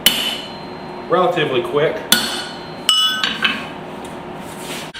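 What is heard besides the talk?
hammers striking metal while forging a tiny hammer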